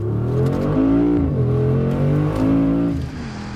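A Brabus-tuned Mercedes SUV accelerates hard under kickdown on a test track, its engine note rising and falling through gear changes as a loud, steady roar close by.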